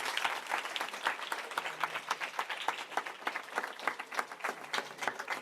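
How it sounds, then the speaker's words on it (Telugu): Applause from a church audience at a Christmas sermon, a dense patter of many hands clapping steadily throughout, moderately loud and close, with no speech over it. "అర్థమైన వాళ్ళు చప్పట్లు కొడదాం ఒకసారి"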